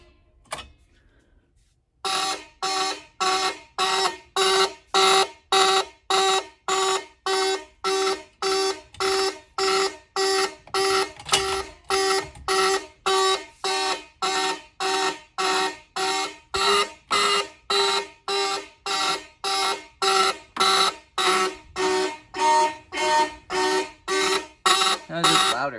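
A fire alarm system test: after a short quiet start, a loud electronic horn pulses in a fast, regular rhythm for over twenty seconds, close and dominant.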